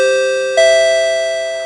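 Two-tone electronic announcement chime at a racing paddock during an SCCA event at Summit Point, a loud, clear ding followed by a sustained lower ringing tone, with no voices.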